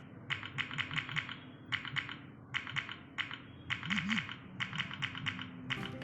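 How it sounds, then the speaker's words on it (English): Rapid clicky mechanical key press sounds from an Android phone keyboard app, in bursts of typing, crisp and close, with brief pauses between runs. "you can set the keyboard press sound as mechanical keys"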